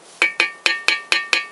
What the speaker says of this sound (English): it's good to hammer in very carefully in here